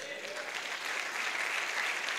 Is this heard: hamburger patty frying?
no